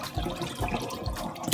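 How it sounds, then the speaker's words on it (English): Hot tap water running over meat being rinsed in a kitchen sink, a steady close splashing stream with uneven gurgles, no voices. "Right now I'm just washing off the meat with some hot water."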